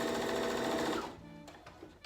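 A sewing machine back stitches a drawstring bag, starting with a fast steady whirring run that cuts off after about a second, followed by a few short quiet clicks and stitches.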